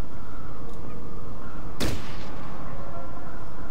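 A single hunting rifle shot cracks out sharply in the Fallout Tactics turn-based game. It lands loud and near, then fades into a low ambient hum.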